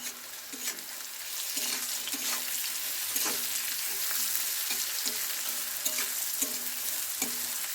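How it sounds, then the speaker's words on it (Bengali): Onions frying in oil with added salt hiss in a steady, close sizzle, with regular scraping strokes of a spoon stirring the pan and no voices. "স্বাদ মতো লবণ দিয়ে আবারও আমি নেড়ে চেড়ে নেবো।"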